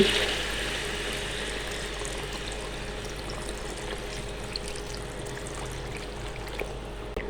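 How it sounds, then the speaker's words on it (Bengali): Hot water pours into a cooking pot holding a soaked rice and lentil mix for chicken halim, giving a soft, continuous, fairly faint splashing flow with no talking. "এখন এখানে আমি গরম পানি দিয়ে দিচ্ছি"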